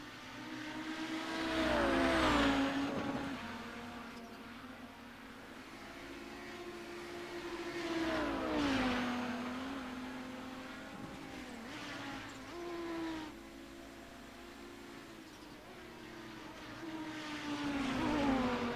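A 700 HP Audi 90 GTO race car tears around the Nürburgring Nordschleife, engine repeatedly rising to howling revs and dropping on shifts and braking, fairly faint and steady over the stretch, no voices.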